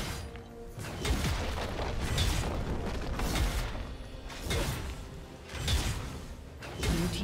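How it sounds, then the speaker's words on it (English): A turret being destroyed in a League of Legends top-lane match: a dense, continuous rumble of crashing, creaking mechanical debris and booming impacts, with repeated heavy bursts swelling over several seconds and no talk. "Blue team's turret has been destroyed."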